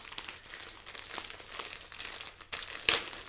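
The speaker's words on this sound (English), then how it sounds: "let's pull it out of this plastic sleeve, see what we're actually working with here" Plastic sleeve crinkling close up as a Godzilla vs Kong face towel is pulled out, a run of soft irregular rustles and crackles ending in a sharper crinkle.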